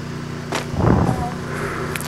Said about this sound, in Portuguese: Uma moto que cortou de giro aqui na minha rua.